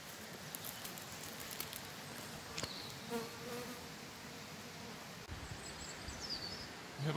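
Bees buzzing steadily around the hives of a home apiary near an estuary, a soft continuous drone with occasional louder passes close by, with no talking.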